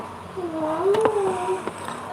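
A pet cat gives a short, wavering meow-like call that rises and falls over about a second, with a few faint clicks and taps nearby and low background noise.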